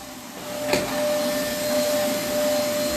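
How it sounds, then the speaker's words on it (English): A vacuum cleaner runs steadily on a sofa, a close, continuous motor whine with a sharp click near the start and no talking. "let's vacuum this sofa"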